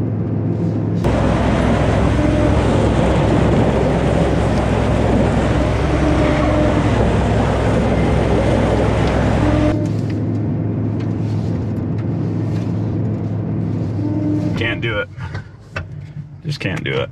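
A large luxury SUV engine strains hard at full throttle on a steep off-road climb with one front wheel lifted, a loud steady drone and grinding drivetrain noise that drops away sharply partway through, with voices talking over it.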